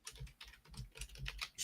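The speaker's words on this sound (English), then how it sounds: "I'm typing it." Quick, uneven clatter of keys on a computer keyboard in bursts of typing, close and clear, ending in a louder flurry.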